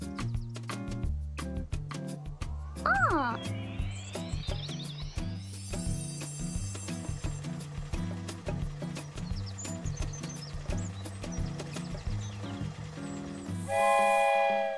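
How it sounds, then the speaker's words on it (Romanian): A cartoon train from a children's educational animation plays with a chugging, rhythmic musical beat and a rising whistle-like toot, ending in a louder bright horn-like blast. "Și uite, este trenul Marc"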